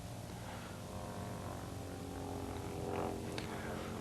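An aerobatic airplane drones steadily through a roll sequence, its propeller engine holding a continuous broadband hum that swells slightly near the end.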